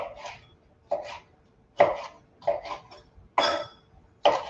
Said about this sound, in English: I'm just gonna cut it